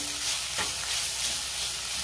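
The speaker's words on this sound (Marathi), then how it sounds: "आता त्यामध्ये आपल्याला टोमॅटो घालायचा आहे आणि टोमॅटो 2 मिनिटं मी पुन्हा व्यवस्थित परतून घेणार आहे" Tomato fries with onion and coconut in a pan for shev bhaji, producing a dense, continuous close-up sizzle with a soft stirring scrape partway through.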